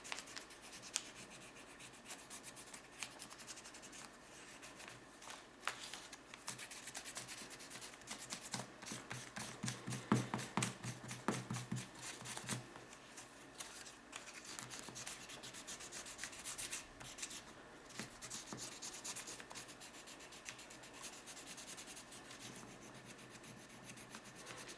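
Crayon rubbing across paper while coloring an origami paper penguin, a steady scratchy rasp of continuous strokes lasting throughout, close and fairly quiet with no talking.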